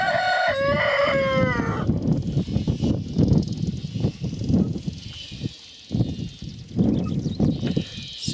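A rooster kept in a summer pen with guinea fowl and turkeys gives one loud, close crow at the start, followed by steady clucking, rustling and scratching from the birds.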